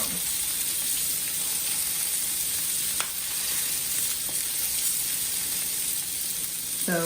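Salmon fillet sizzles steadily in a hot metal pan over medium heat, a continuous close frying hiss with a couple of faint scrapes from a metal fish spatula, no talking.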